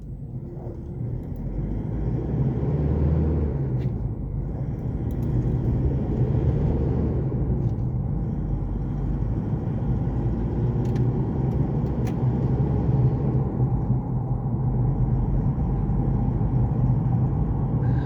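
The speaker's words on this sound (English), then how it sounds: "enjoy the raw sound of this diesel powered vehicle" A steady, low diesel engine rumble from a 2012 Isuzu KB300 pickup drones throughout with road noise, heard from inside the moving truck; no one speaks.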